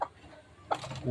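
A desi country hen gives a couple of short clucks close by, mixed in with a person talking over the brief moment.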